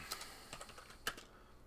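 Quick, light clicks of typing on a computer keyboard, a few soft keystrokes in short bursts, close and quiet with no talk.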